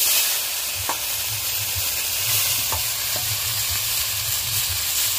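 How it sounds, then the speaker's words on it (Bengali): Chopped telakucha greens tossed into fish frying in hot oil, stirred in a pan: a loud, dense sizzle fills the whole stretch, with a few soft scrapes of stirring underneath and no speech. "তেলাকচু শাকগুলো বেছে কুটে নিয়েছি, এবারে আমি মাছের মধ্যে দিয়ে দেব।"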